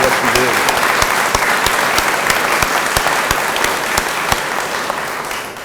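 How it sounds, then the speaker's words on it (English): Sustained audience applause at an announcement event for a welding technology and innovation center, dense and steady throughout, gradually tapering slightly toward the end, with some faint voices mixed in. "Let's give her a round of applause for her leadership."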